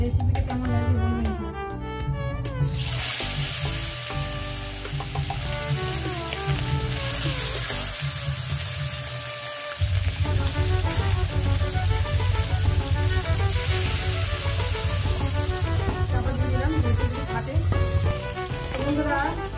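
Parshe fish frying in hot salted oil gives a steady, close crackling sizzle that grows denser and louder partway through, partly under background music.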